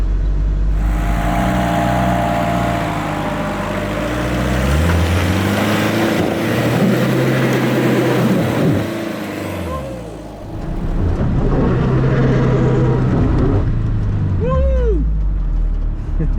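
An off-road 4x4 engine revs and labours loudly as the tyres work over an obstacle, the pitch rising and falling with a brief dip near the middle, and someone talks over the engine.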